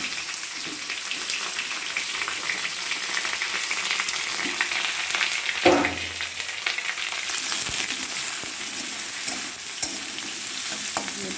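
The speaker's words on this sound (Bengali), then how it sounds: "পেঁয়াজ টমেটো কষানো হচ্ছে, ভাজা না কষানো হচ্ছে বন্ধুরা।" Onions and tomatoes sautéing in a pan, a steady close sizzle with stirring scrapes and clatter throughout, one brief louder clunk midway, no voices.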